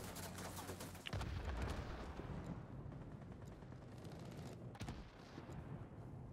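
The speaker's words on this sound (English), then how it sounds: "that's still a lot of rear gunner fire" Rapid rear-gunner fire from an aircraft in a Wargaming combat game, a dense continuous rattle of shots with a sharp heavy burst near the start, loud and steady throughout with no talk.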